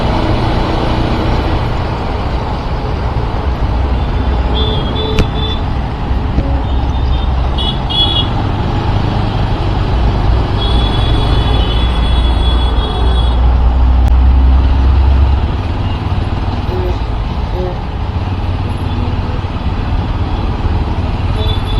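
Steady road traffic rumble heard from a moving motorcycle, with engine drone and wind noise throughout and a few distant horn toots.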